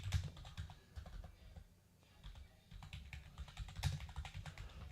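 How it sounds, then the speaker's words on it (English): Computer keyboard typing at close range, a quick patter of clicks that pauses briefly in the middle and then resumes, alone without talk. "let's go over to the charts and type in"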